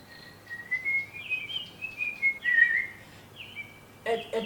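A person whistles a warbling, trilling melody, the pitch sliding and wavering in short phrases, fairly close over a quiet room, with a brief voice breaking in at the end.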